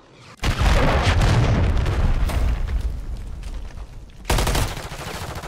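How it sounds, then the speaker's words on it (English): Booming cruise missile strike in a first-person shooter match, a heavy sustained rumble of blasts rolling for several seconds, then a second loud explosion hitting near the end, with no talk over it. "friendly cruise missile deployed"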